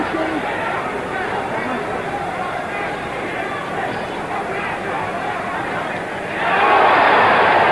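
A boxing arena crowd for Muhammad Ali versus Ken Norton murmurs in a steady broad hubbub, then swells into a louder roar near the end as the spectators react to a blow.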